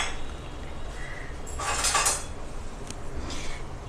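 Onions and garlic are stirred together in a bowl for pakora, giving soft scraping and several clinks of a utensil against the bowl, fairly quiet and close, with no talking.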